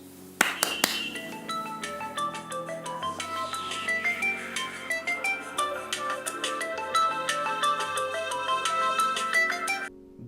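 A phone plays a ringtone from a clap-to-find Android app: a bright chiming melody that starts sharply and rings on for about ten seconds, alone and fairly loud.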